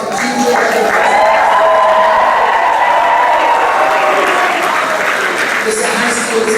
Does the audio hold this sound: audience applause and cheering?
yes